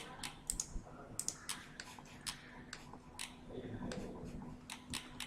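Keys tapped on a computer keyboard while entering drawing commands, a run of sharp, close clicks in irregular bursts with short pauses, fairly quiet against a low steady hum.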